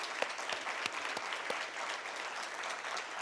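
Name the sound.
applause for the mayor and county commissioner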